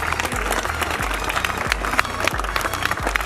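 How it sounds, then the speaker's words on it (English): Seated audience at a police officer's interactive session applauding a guest's arrival, steady moderate clapping over a low rhythmic thumping pulse in the background. "welcome our esteemed guest, Mr. Rupinder Singh Ji, IPS-IGP, Jaipur, with a big round of applause"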